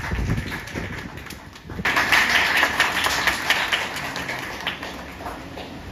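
Audience applause at the opening ceremony of a human rights foundation in Chawbazar, a dense, steady wash of clapping from a crowd that swells after a quieter start and holds at moderate loudness.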